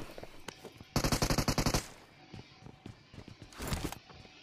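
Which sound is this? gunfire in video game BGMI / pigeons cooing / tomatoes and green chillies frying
gunfire in video game BGMI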